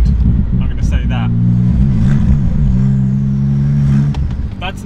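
A 900HP Porsche 911 Turbo engine revs loud and close in rising and falling surges with a harsh rumble and clatter, heard from the road while someone speaks briefly over it.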